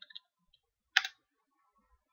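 Keystrokes on a computer keyboard while a Heroku create command for a Laravel app is typed: a few faint taps at the start, then one sharper cluster of clicks near the middle, otherwise quiet.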